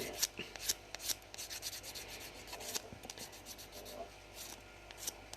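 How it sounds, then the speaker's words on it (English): A nail file rubs in quick, close, scratchy strokes over dip powder nail extensions to smooth them, the irregular rasping continuing quietly with no speech. "you can literally get your file and you can go over the top with your file and smooth out any imperfections"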